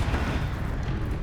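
Confringo blasting spell explosions in the Hogwarts Legacy video game, a dense, loud, sustained rumbling boom with heavy low-end energy and no pauses.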